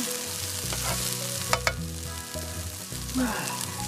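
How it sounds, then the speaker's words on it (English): Cabbage hits a hot pan for vegetable chow mein and sizzles steadily while being stirred, with a few sharp clatters midway, all under background music. "And now I'm going to put the cabbage in."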